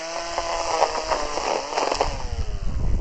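A lightweight cordless 18V Power X Change grass trimmer trimming grass around the base of a tree, its high whining motor buzzing steadily and rising and falling as the line cuts, close and loud with no talk.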